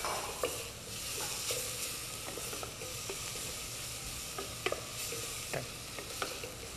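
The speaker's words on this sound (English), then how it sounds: "On va juste faire suer les oignons, les faire cuire un petit peu." Onions and spices sizzle and fry in a pan as they are stirred, giving a steady low hiss broken by scattered sharp clicks and scrapes of the spoon, with no voices.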